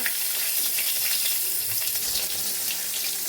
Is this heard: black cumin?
yes